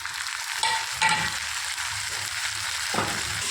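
Grated carrot halwa fries in ghee, a steady close crackling sizzle with scraping stir strokes breaking through every second or so, no voices present.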